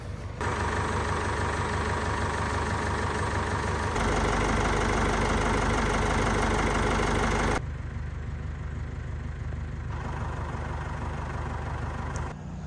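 A tractor engine runs steadily at close range on a farm field job, a continuous loud low drone that shifts to a slightly quieter, different tone partway through, with no talk.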